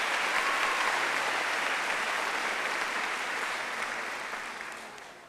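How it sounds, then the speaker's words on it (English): A crowd at a high school graduation ceremony gives a sustained round of dense applause that holds steady and then gradually fades toward the end. "but one more round of applause"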